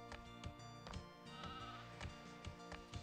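Sheep bleating in the farm-building strategy game Anno 1602, a series of short, regularly spaced bleats that repeat every half second or so over a soft, steady game background, with no talking.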